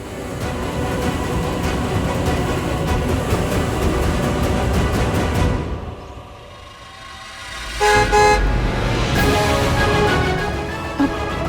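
A car arrives on a street in an Indian TV drama, its horn tooting in short bursts over loud music, then dropping away before another sharp honk near the end.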